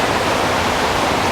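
A river rushes steadily at a gold-panning spot, a loud, continuous broadband wash of flowing water close by, with no voices.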